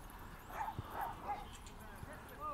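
Dogs, among them a poodle, yip and bark at a dog park, the barks soft and somewhat distant over outdoor ambience, with someone talking throughout.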